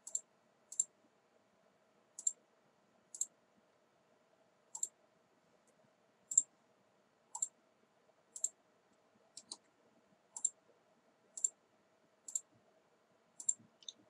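A computer mouse's left button clicks sharply during AutoCAD drafting, a long run of crisp single clicks spaced about a second apart, close and quiet, over a faint electrical hum.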